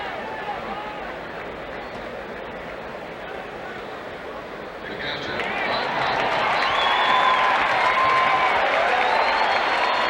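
Ballpark crowd at a 1991 White Sox at Royals game rises into a swelling cheer about halfway through, a broad steady roar of many voices with scattered whistles continuing loudly to the end.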